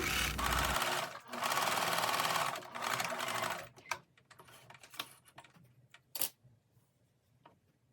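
A sewing machine runs in fast continuous bursts while stitching a narrow 0.2 cm edge on a sleeveless shirt, then stops, leaving soft clicks and handling taps.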